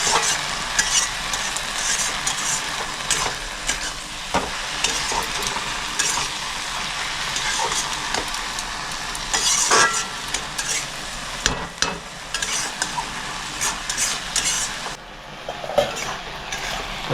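Water spinach (kolmi shak) stir-fries over medium heat in a pan, a continuous close sizzle broken by repeated scrapes and knocks of the stirring utensil against the metal.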